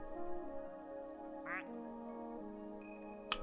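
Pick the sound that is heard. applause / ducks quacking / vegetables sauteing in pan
ducks quacking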